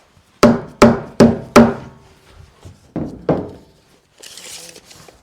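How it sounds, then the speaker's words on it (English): A mallet taps a wooden box: four sharp, resonant knocks in quick succession, then two softer hits after a pause, close and clear, followed by a brief shuffling rustle. "I'll take my mallet, I'll tap the box a little bit."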